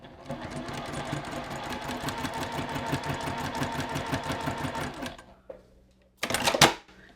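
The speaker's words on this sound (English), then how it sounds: "I'm stitching at stitch length 2" A sewing machine stitches fabric at stitch length 2 in a fast, steady rhythm for about five seconds, stops, then a short rustle or snip follows as the thread is cut.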